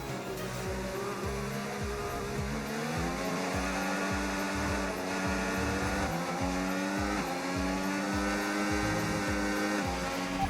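F1 race car engine from the F1 25 video game, featuring an Alpine car, screams steadily at high revs with repeated upshifts and downshifts across the whole stretch, loud and close, with no talk.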